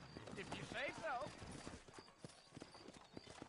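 Horse hooves clip-clop steadily in the Red Dead Redemption video game, close and clear, with a brief whinny and a voice talking over the hoofbeats.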